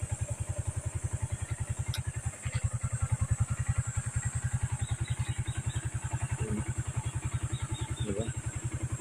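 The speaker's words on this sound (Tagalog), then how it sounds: "Napaka-smooth pa rin yung tunog ng makina." A one-year-old 2023 Yamaha Sniper 155 motorcycle engine idles smoothly and steadily up close, a fast even low thrum with faint clatter running unbroken throughout.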